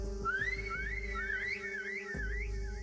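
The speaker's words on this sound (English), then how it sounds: "He whistles, signaling the guards to begin their massacre." In the video game Reverse: 1999, a rising and falling whistled tune plays over a steady hum and low thuds, wavering up and down for a few seconds.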